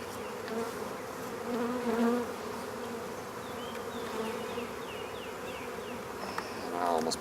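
Honeybees buzz during an April hive inspection, a dense, steady drone close by that holds for the whole stretch with no pauses and no voices.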